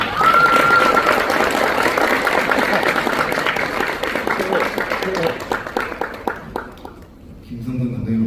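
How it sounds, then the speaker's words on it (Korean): Wedding guests at a ceremony applaud the officiant, a thick wash of clapping that holds strong before thinning and fading toward the end, with a brief whistle-like tone early on and crowd murmur beneath. "큰 박수 부탁드립니다"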